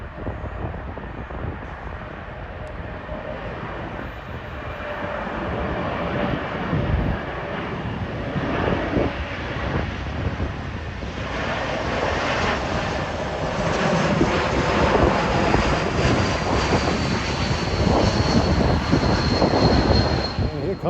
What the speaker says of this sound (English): this next plane is a Delta Airlines Airbus 220 from Austin,